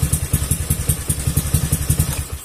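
A carbureted Honda Beat scooter's starter motor cranks via a direct jumper wire, a loud, close, rapid rhythmic churning that runs steadily without catching.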